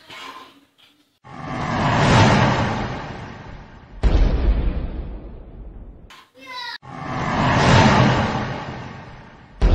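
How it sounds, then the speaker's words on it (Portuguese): Two bazooka shots are fired at a giant monster in a Godzilla film, each a loud, sustained roaring blast with a rushing tail, separated by a brief whoosh and a sharp metallic clatter. "Meu irmão Sam vai dar dois tiros de uma bazuca pro dinossauro."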